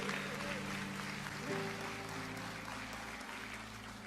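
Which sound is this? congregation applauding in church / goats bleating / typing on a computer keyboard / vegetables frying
congregation applauding in church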